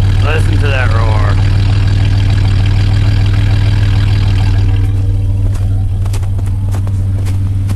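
A 1990 GMC S15 truck idles after a cold start in the snow, a steady, loud, close low rumble that holds evenly throughout, with a brief voice-like sound near the start.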